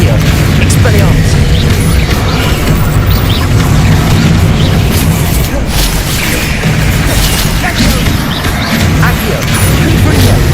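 Spell blasts in the Hogwarts Legacy video game keep up a dense, loud stream of booms, crashes and pops with no pause, set over continuous game noise.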